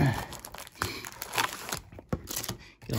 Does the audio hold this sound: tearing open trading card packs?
yes